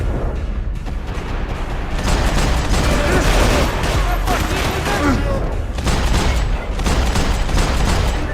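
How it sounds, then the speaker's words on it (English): Grenade explosions in the video game Max Payne 3, loud, close booms and blasts mixed with heavy gunfire, several impacts spread across the stretch over a dense din of combat. "Grenades."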